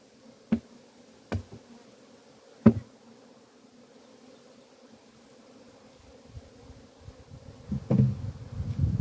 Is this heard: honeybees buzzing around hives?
yes